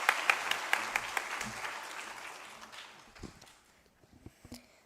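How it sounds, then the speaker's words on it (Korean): A church congregation applauds a child's testimony at a Sunday school summer ministry thanksgiving service, a moderate wash of clapping that fades after about three seconds, leaving scattered claps and faint shuffling. "우리 큰 박수로 맞아주시면 고맙겠습니다"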